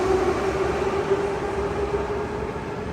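An underground metro train in Baku rumbles steadily with a sustained hum and rolling rail noise, loud and close from inside the carriage, with no talk.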